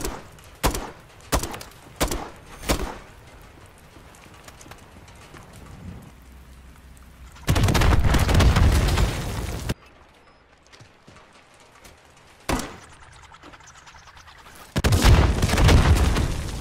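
Bursts of weapon fire launching explosives at enemies in Modern Warfare III, a few sharp shots followed by long, loud roaring blasts separated by brief quieter gaps.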